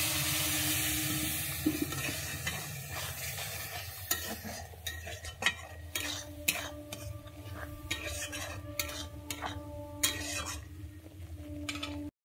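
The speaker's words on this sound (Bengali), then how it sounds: "এবারে আমি একটু জল দিয়ে দিচ্ছি" Water goes into a simmering taro root curry in a pan with a brief hissing rush, then a spoon stirs with repeated sharp clinks and scrapes against the metal over a soft sizzle.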